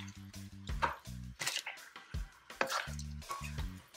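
Shrimp stir fry with broccoli and garlic being stirred in a hot pan, giving close, wet squishing and sizzling scrapes in short bursts, with a low hum running underneath.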